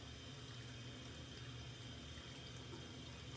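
Hot water running steadily from a bathroom tap, a faint continuous hiss and trickle without pause and no voices.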